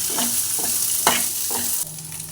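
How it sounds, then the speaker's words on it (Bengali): Flat beans frying in a pan with whole garlic, a steady sizzle broken by several scraping stirs of a spatula at regular intervals, close and fairly loud, with no talking. "সিমগুলো ভাপানো হয়নি, সিমগুলো ওর সাথে একসাথে ভাজা হচ্ছে।"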